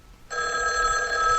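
A telephone bell in an old-time radio mystery drama starts abruptly after a brief quiet moment and rings steadily and loudly to the end, with no voices over it.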